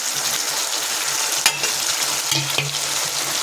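Chilli sizzling as it fries in a pan with salt and turmeric, with a steady hiss throughout and a few sharp clinks and scrapes of the spoon stirring it, heard up close with no voices.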